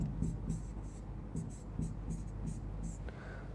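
Pen strokes on paper while notes are written during a biology lecture, soft rhythmic scratching bursts roughly every third of a second, faint against a steady low room hum.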